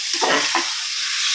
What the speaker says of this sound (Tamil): வெங்காயம் தக்காளி வதங்கிட்டு இருக்கு.